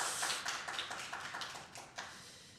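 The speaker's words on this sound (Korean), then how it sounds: "박수, 우리 준비한 청년들에게 박수." A church congregation at a Korean Sunday service gives the young people a round of applause: faint, scattered clapping that rises briefly and then thins out, heard at a distance without speech.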